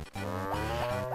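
A cow in the farming game Harvest Moon: Friends of Mineral Town gives a short, clear electronic moo, a single low, lowing call lasting about a second.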